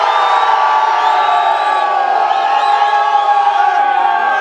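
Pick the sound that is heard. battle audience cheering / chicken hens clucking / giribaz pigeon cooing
battle audience cheering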